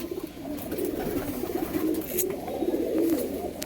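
Star Kalanka pigeons coo close by in soft, throaty, repeated murmurs that run on steadily, with no talking.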